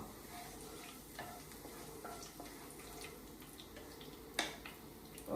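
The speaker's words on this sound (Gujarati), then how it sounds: "તો તેલમાં નાખ્યું જીરું" Cumin seeds sizzling in hot oil in a pan, a soft steady crackle with occasional stirring scrapes and a sharper clink near the end, fairly quiet and close.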